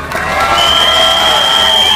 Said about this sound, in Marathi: तर या आदिवासी कलाकारांसाठी एकदा जोरदार टाळ्या वाजवा तुमच्यासाठी.